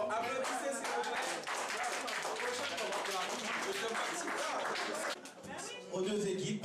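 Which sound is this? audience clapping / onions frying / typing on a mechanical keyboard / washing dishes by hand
audience clapping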